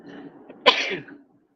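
A single sharp sneeze bursts out from a person nearby, a short explosive burst after a faint inhale, then quiet.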